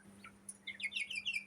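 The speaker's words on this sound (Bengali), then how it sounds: "এগুলো জাম্বো কয়েল পাখির বাচ্চা।" Jumbo quail chicks chirping in quick, high, thin bursts that grow busier toward the end, close by, over a faint steady hum.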